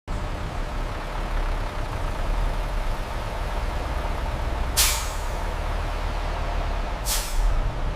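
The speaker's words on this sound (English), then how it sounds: "forklifts load our securely wrapped pallets into waiting cargo trucks" In a bottle label factory warehouse, forklifts load wrapped pallets into cargo trucks amid a loud continuous engine rumble, broken by two sharp, hissing air-brake bursts.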